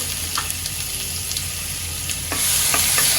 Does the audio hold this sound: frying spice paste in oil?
yes